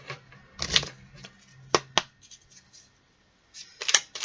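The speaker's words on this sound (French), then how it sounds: "on va voir avec le petit oracle de Merlin. Alors, attendez. J'aime bien les mélanger deux fois." Small oracle cards are shuffled by hand in short, quiet bursts of riffling and flicking separated by brief pauses, close to the microphone.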